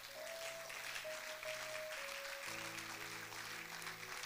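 Church congregation applauding and cheering for Jesus, a steady wash of clapping and voices, with sustained organ or keyboard notes underneath throughout.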